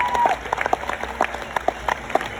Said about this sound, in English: one more big round of applause for the stars of your show